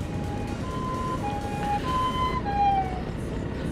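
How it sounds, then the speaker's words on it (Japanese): An ambulance siren passing on the road, heard from a moving motorcycle as a faint wavering tone riding over steady wind and engine rumble. "うわ救急車だ。"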